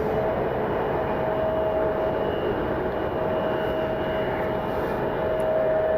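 Steady, continuous jet engine roar of a United flight pushing back at Cleveland Hopkins International Airport, heard from a distance as a broad, even rumble with a faint tonal whine, unchanged for the whole stretch.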